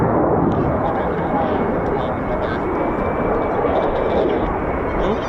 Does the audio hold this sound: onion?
no